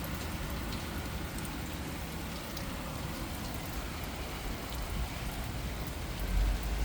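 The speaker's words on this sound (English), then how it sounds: "that was just light rain" Light rain falling steadily outdoors, a dense continuous hiss of drops on surfaces with no talking, swelling slightly near the end.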